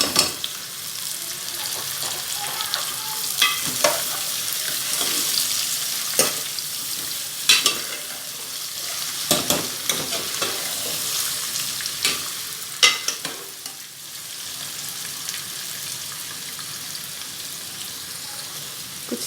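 Potatoes frying with cumin seeds in a pan, giving a steady close sizzle with occasional sharp scrapes and clicks of stirring throughout.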